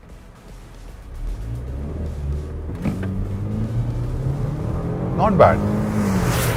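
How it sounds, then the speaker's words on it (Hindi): Range Rover Velar engine pulling hard under acceleration on a road drive, a steady rising drone with a gear shift partway through, heard from inside the cabin under continuous talk. "इंजन जो है वो स्ट्रगल नहीं कर रही है या आवाज़ के हिसाब से वाइन करती हुई नज़र नहीं आ रही है"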